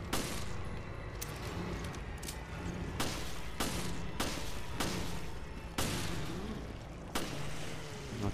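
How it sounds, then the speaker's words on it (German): Gunfire in the video game Resident Evil Revelations: repeated loud shots at irregular intervals over a dense, continuous game soundscape of ambient noise and effects. "Die brauchen schon ein paar Schüsse."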